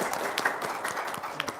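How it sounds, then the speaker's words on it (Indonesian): An audience breaks into applause, a brief burst of scattered hand claps blending into a dense patter, fairly close, lasting under two seconds. "tepuk tangan dong"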